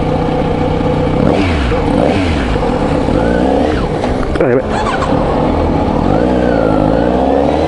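A Kawasaki Z900RS motorcycle fitted with a new K-Factory muffler idles and revs close by with a rough, uneven engine note on a warm day, stumbling at one point while the rider talks over it.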